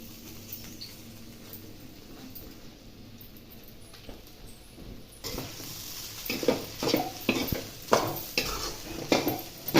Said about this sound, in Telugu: ఇదిగోండి ఎగ్ ఇలా బాగా వేగిపోయింది ఇందులో అన్నాన్ని వేసేస్తున్నాను